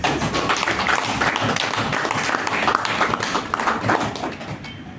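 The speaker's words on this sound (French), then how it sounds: "Si nous pouvons déjà vraiment applaudir pour le VPM." A ceremony audience applauds in a large company meeting hall: a continuous wash of many hands clapping, even and fairly loud throughout, tapering slightly near the end.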